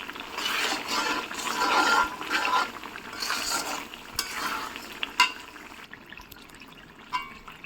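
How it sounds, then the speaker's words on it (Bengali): Garlic cloves cook in a pan for pickle while a spoon stirs them, with scraping, sizzling strokes that swell and fade, growing sparser and quieter toward the end, with a few sharp clicks and no voices. "এভাবে নাড়াচাড়া করতে থাকবো, আস্তে আস্তে আমার রসুনটা সিদ্ধ হয়ে আসবে।"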